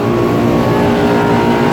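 A central air conditioner condenser unit runs outdoors, its fan blowing hard with a steady loud whoosh and motor hum, close and continuous with no speech.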